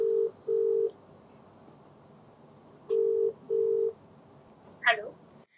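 Touch-tone telephone keypad beeps sound in two short pairs, followed by a brief higher chirp as the call connects, all close and clear over a quiet hiss.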